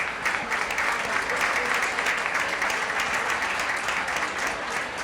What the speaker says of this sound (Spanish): Pues es que vamos a aplaudir porque es lo que todos tenemos ganas ahora